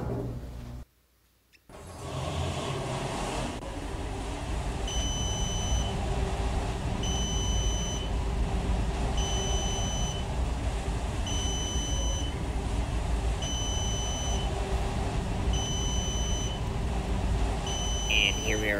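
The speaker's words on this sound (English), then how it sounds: "Not a huge fan of the long beep. It's kind of hard on the ears." An Otis Series 5 Gen2 machine-room-less traction elevator sounds a high electronic beep that repeats at steady intervals of about two seconds over a constant loud hum of cab and machinery noise.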